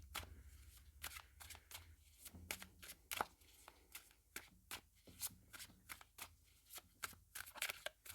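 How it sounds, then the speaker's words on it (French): Oracle cards are shuffled for a tarot-style reading in a rapid run of soft riffles and slaps, close and quiet, with brief murmured speech now and then. "On va tirer deux cartes pour chaque."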